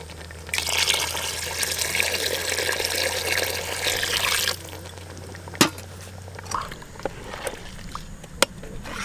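Water pours into a pot of gongura mutton curry in a village kitchen, a steady rushing splash for about four seconds, then fading to scattered drips and light clinks.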